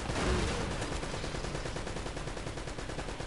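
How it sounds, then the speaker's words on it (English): Turret gunfire in Uncharted, a dense, continuous burst of rapid automatic shots that opens with a heavy thump and holds steady and loud throughout with no talk. "Is that the first turret I meet up with?"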